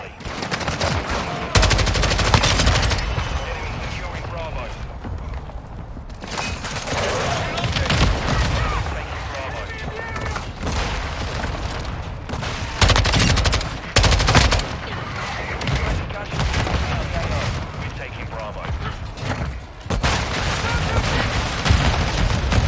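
Near-constant Modern Warfare 2 gunfire: rapid automatic bursts and heavy single shots, loud and close, with a voice talking over parts of it.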